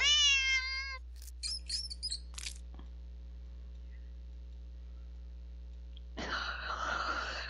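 A cat's meow used as a sound effect in a spooky Halloween story: a stacked, wavering cry at the start over a steady mains hum, then brief squeaky calls and a burst of noisy rustling near the end.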